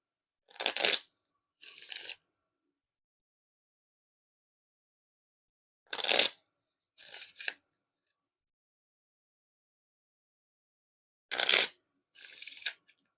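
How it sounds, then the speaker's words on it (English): Red Bicycle Series 1900 playing cards are riffle shuffled three times, each a sharp ripple of cards followed by a softer bridge cascade, spaced by silence and heard close and clear. "And now time for the riffle shuffle or bridge shuffle."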